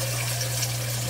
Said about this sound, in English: The water comes into the socks.